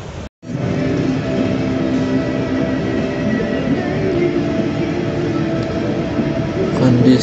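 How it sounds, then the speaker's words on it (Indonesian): Heavy rain drums steadily outside a ferry crossing toward Bakauheni, Lampung, a loud, dense and continuous wash after a brief cut at the start. "Kondisi hujan deras ya di luar ini."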